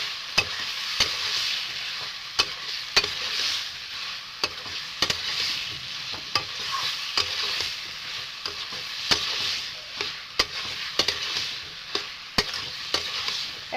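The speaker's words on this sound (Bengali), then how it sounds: "মিক্স করে নিচ্ছি ভালোভাবে সবজিটাকে" Cabbage and potato curry stirred in a frying pan: a steady sizzle with repeated sharp scrapes and clacks of the spoon against the pan at an uneven rhythm, up close and alone.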